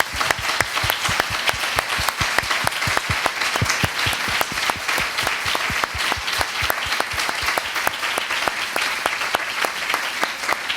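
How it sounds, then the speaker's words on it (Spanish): Sustained, dense applause from a conference audience in Bilbao, steady and loud throughout with many hands clapping close together, no voices standing out. "Vamos a darle un gran aplauso a ustedes y a nosotros."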